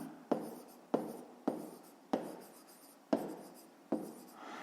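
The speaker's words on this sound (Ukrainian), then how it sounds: "Записуємо в дужках чого кілограм." A pen writes on paper during a fifth-grade math exercise, with six distinct scratchy strokes, each starting sharply and fading, heard close and fairly quiet with no talking.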